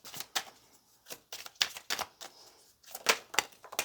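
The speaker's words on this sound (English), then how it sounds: "Let's get one more card." Tarot cards slapping and sliding against each other in quick irregular bursts, a close, crisp papery flutter and snap repeated several times, with no voice.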